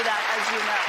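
Town hall audience applauding, a steady broadband wash of clapping with a voice talking over it.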